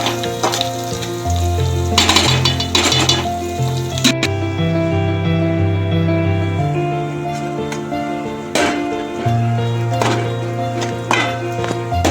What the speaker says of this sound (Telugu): మసాలాలు కూడా వేసుకున్నానండి కలుపుకుంటున్నాము పచ్చివాసన అంతా పోయే వరకు కరివేపాకు కూడా వేసుకున్నానండి